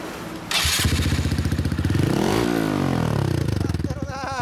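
A 2005 Yamaha YZF-R1 sport motorcycle with an aftermarket Bright Logic exhaust fires up and revs hard, rising to a loud roar before dropping back to a rough idle, close by.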